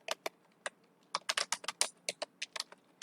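Quick bursts of keystrokes on a computer keyboard as a folder name is entered, a crisp irregular clatter of about twenty close, clear taps over three seconds with brief pauses between words.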